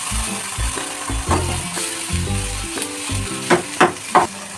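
Potatoes frying in oil in a frying pan crackle and sizzle close by, with clattering stirring knocks and a few sharp scrapes toward the end.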